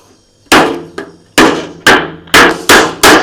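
An empty metal oil tin is cut by hand with sharp metallic strikes, seven loud impacts at an uneven pace, each ringing briefly and then decaying, close and without talking.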